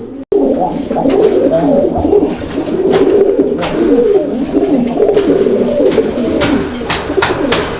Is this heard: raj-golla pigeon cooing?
yes